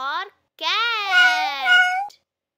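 A cat gives two meows, a short one followed by a longer, drawn-out wavering meow, clear and close with silence between.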